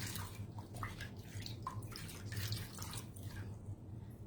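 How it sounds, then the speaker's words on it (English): A Chalk Couture squeegee is swished and rinsed in a container of water, giving splashing, dripping and trickling sounds that rise and fall close by with no talking. "I'm just gonna pop it in my water, rinse it out"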